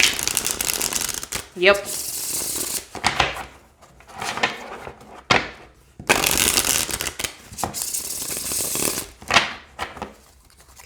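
Tarot cards with a dog-themed deck are shuffled by hand in several crisp riffling bursts separated by short pauses, close up, with a brief spoken word in between.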